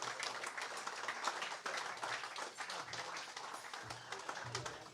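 Audience applause greeting panel guests as they take their seats, a dense steady patter of clapping hands filling the room for the full stretch, fairly even in loudness without any voices over it.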